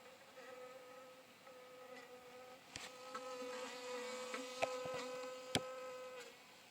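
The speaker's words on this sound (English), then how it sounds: "But you can hear them buzzing inside the hive." A steady drone of honeybees buzzing inside an overwintered hive, with sustained tonal hum, low and continuous, punctuated by a few sharp clicks and taps.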